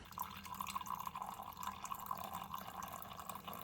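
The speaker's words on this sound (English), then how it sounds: "So let's go ahead and pour our coffee for two." Brewed Chemex coffee for two is poured from the carafe, a steady liquid stream with small dripping splashes, close and fairly quiet, with no talk.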